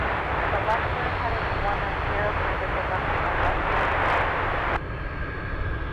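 An airplane taking off from runway 25 left at Anchorage: a broad, steady engine roar throughout, with radio talk over it, cutting to a quieter tone near the end.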